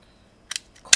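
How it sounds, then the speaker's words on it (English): Cutters snip a small red wire during wire stripping, giving two quick close clicks followed by a sharper, louder snip, all crisp and isolated against near silence. "I'm going to cut a red wire, and then I'm going to cut it off"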